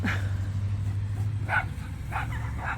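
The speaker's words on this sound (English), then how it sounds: "there's that little black dog. It was chasing the UPS truck" A small black dog that had been chasing a UPS truck yips and barks in four short, spaced bursts at moderate distance, over a steady low engine hum.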